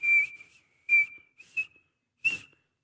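A person whistles in four short, bright bursts with pauses between, imitating a shepherd calling for a lost sheep, close and clear with no talking.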